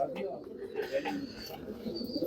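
Rampuri and Amritsari pigeons coo softly in a loft, low throaty calls rising and falling in a few short bursts while someone talks over them.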